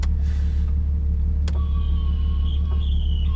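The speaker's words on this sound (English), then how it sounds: "What is that? My back wiper." Rear windshield wiper on a car, a short motorized whine with a sharp click, heard over a steady low engine rumble inside the cabin, no talk.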